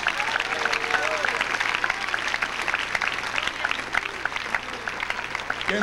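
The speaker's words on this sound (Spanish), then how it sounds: "Dale un aplauso al Rey." A church congregation claps in praise of God, a loud, continuous rattle of many hands that holds steady for several seconds, with a low hum and scattered voices beneath.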